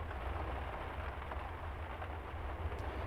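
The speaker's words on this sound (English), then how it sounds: "the sounds of the rain make me so happy" Rain pattering on a window in a video game, a steady, even wash of noise with no distinct drops, continuous and moderately loud.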